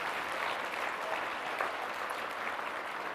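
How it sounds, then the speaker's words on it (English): Gala audience applause fills the room in a continuous, even roar of many hands, moderately distant and unbroken throughout. "give a warm round of applause for Julia Reimer"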